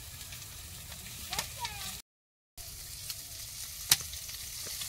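Chilies and onions fry in mustard oil in a pan with shrimp and greens in a village kitchen, a soft steady sizzle with occasional stirring clinks and a brief dropout partway through.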